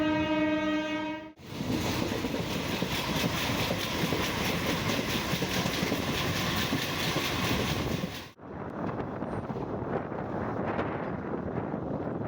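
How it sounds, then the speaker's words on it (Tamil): A train horn blares briefly, then a loud, steady rumble of rolling wheels and rushing wind fills the scene before easing slightly as the Karaikal–Thanjavur train arrives at platform 2 of Keelvelur railway station. "இப்போ நம்ம ட்ரெயின் பார்த்தீங்கன்னா 2வது பிளாட்ஃபார்மில் அரைவல் ஆகுது."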